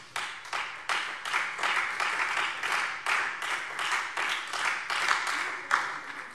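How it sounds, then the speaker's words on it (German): Parliament plenary session members clap in a rhythmic, pulsing pattern of short bursts, a moderately loud run of beats with no clear speech over it. "Applaus"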